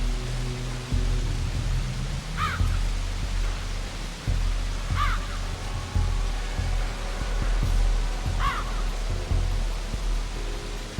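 Three short, evenly spaced crow caws from the Mark of Kri video game, around two and a half seconds apart, rise over a steady low rumbling ambient bed.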